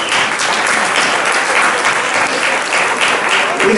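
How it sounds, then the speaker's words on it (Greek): Steady, dense applause from an audience fills the room without pause, loud and continuous, at a gathering of a Kantanos association in Omalos honoring a longtime president. "οφείλω να τους χειροκροτήσω"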